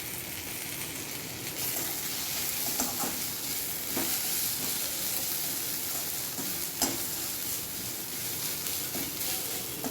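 Rice being fried and stirred in a pan for a fish head dish, a steady close sizzle with a few soft scraping stirs, no talk.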